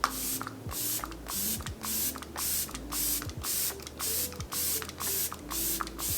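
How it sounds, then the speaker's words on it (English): Makeup Mario Surreal Skin Setting Spray bottle shaken, then misted onto a face: a run of short, close spray bursts in quick rhythmic succession, with faint background tones underneath and no talking. "I really like to give this a good shake, and I just evenly mist my face."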